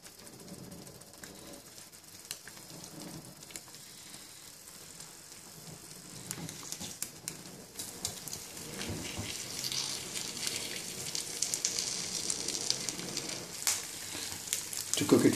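An egg fries in a pan with a faint, hissing sizzle that swells louder in the second half, dotted with light taps and clicks.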